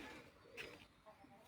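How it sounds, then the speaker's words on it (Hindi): A breeder pigeon gives a brief, soft, low coo amid faint background noise and murmuring voices. "ये जी एक नायाब ब्रीडर कबूतर।"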